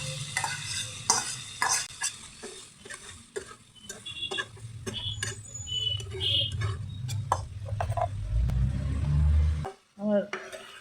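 Potatoes going into a pan of browned, sizzling chicken pieces and being stirred, with repeated spoon-and-pan clatter over a running sizzle that swells to a loud burst near the end.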